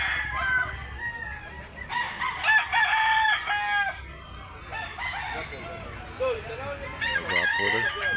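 Roosters for sale at a Cebu poultry market crow repeatedly, several drawn-out cock-a-doodle-doos from more than one bird overlapping, with clucking and faint background voices.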